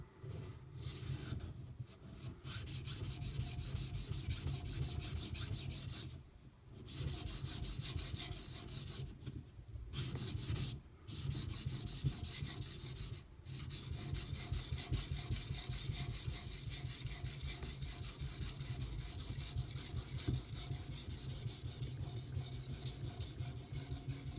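Steady rhythmic rasping strokes of an Aogami Super steel Karaku bunka knife being sharpened and thinned on a stone, a continuous back-and-forth scrape with a few brief pauses.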